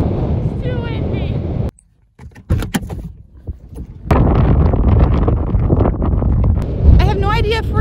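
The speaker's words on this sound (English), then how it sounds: "I've never experienced wind like that before." Strong wind buffets the microphone in Death Valley, a loud broadband roar that drops out briefly midway, then returns in heavy sustained gusts with a voice talking underneath.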